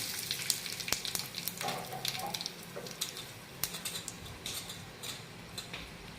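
Curry leaves, mustard seeds, cumin and fenugreek seeds sizzle in hot oil, a steady close crackle with sharp pops and spits scattered throughout, no voices.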